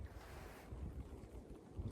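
Wind rushes and buffets the microphone, steady gusting noise with low rumbles and no voices.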